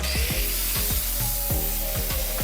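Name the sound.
Cubitron 2 fibre disc grinding square steel bar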